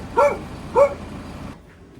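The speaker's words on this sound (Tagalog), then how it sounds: "Aso nila oh." A dog belonging to a Filipino household barks twice in quick succession, loud and close, each bark short and sharp, followed by quiet room tone with no talking.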